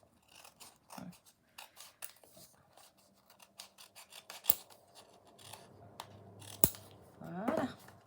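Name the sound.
opening a parcel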